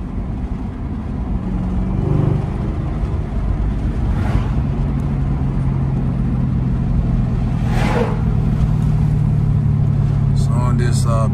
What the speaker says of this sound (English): Big ass truck go by